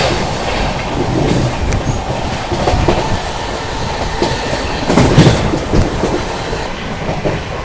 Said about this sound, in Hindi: गाड़ी बढ़िया रफ्तार में